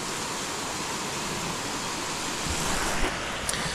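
A flooded, swollen river rushes in southern Georgia, a loud, steady broadband roar of water that fills the whole scene without a break.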